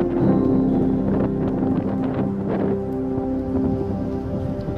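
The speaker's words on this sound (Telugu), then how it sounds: "ఇక్కడ గాలి ఎక్కువగా వీస్తుంది." Strong wind blowing at the Bahuda project dam near Nimanapalli, a loud continuous roar with gusty buffeting against the microphone, steady throughout with no voices.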